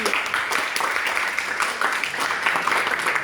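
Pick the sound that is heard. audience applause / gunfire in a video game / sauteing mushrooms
audience applause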